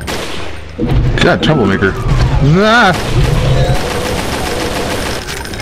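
Gunfire in the Doom video game with the Brutal mod, dense bursts of shots under loud, excited co-op players shouting over each other throughout.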